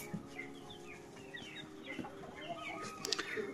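Chicks and a rooster cluck and peep in a farm setting, scattered calls repeating throughout, fairly faint and close, with no one talking.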